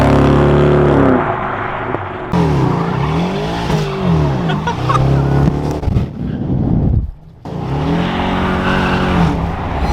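BMW 750Li with a custom exhaust passes by loudly, its engine note rising and falling through a flyby with tire squeal, then briefly dropping away before another pass roars close.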